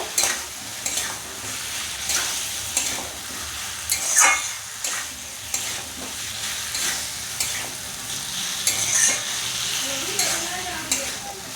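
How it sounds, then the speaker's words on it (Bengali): Meat stir-fried in a spice paste sizzles steadily in a pan while a spoon or spatula scrapes and clatters at irregular intervals, close and moderately loud. "এবার এর মধ্যে দিয়ে দেবো মাংসগুলো মাংসগুলো দিয়ে আর একটু ভালো করে কষিয়ে নেব"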